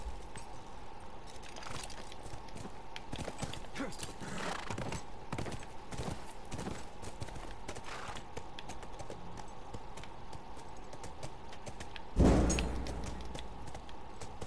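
Steady clip-clopping of horse hooves in The Last of Us, a soft and even rhythm that continues throughout, with one louder thump near the end.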